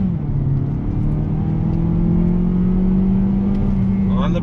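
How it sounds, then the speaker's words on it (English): A 2020 Mazda CX-30 front-wheel-drive SUV accelerating hard in an acceleration test, a loud steady engine drone whose pitch climbs smoothly through the run, heard from inside the cabin. "let's do another acceleration test here"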